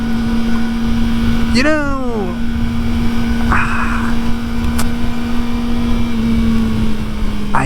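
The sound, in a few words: Kawasaki ZX-4RR motorcycle engine while riding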